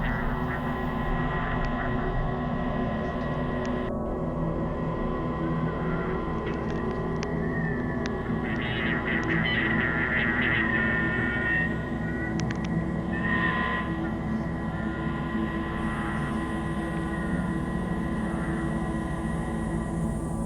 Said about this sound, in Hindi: एक यूट्यूबर का बेबी मॉनिटर बहुत स्ट्रेंज और क्रीपी वॉइसेस पिक कर रहा था